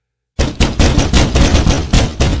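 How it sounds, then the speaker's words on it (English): Heavy, rapid pounding on a door starts abruptly and keeps hammering in loud, closely spaced blows for over two seconds, with a harsh, booming impact that fits a horror scene. "The banging was so hard I lost balance."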